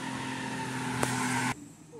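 A passing car leaves a cloud of smoky exhaust behind it; a steady engine drone rises into a brief louder rush, then cuts off abruptly, with voices faintly present.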